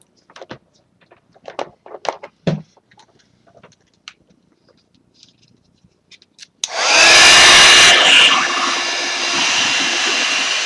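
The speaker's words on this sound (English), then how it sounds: "You want me to use my heat gun on it?" A heat gun switches on and blows a loud, steady roar of hot air for several seconds, preceded by soft handling clatter and rustling.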